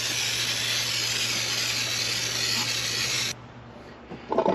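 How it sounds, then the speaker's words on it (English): Chain cleaner sprayed onto the chain of a Honda CB650R motorcycle, a loud close continuous aerosol hiss lasting over three seconds, then cutting off abruptly into quieter rustling and a soft knock. "I will use the same chain cleaner to spray this one more time on the chain."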